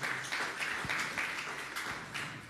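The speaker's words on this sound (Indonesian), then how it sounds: "Berikan tepuk tangan bagi Tuhan." A church congregation applauds during a sermon, a fairly faint, steady wash of clapping with slight rhythmic pulses running throughout.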